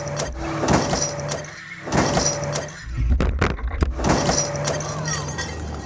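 Two cars strain against a rope joined with glue, engines revving loudly in surges with sharp clattering and jangling bursts midway, a heavy, busy mix of motor roar and breaking impacts.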